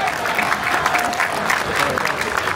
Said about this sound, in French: Vos applaudissements pour Florian Sénéchal.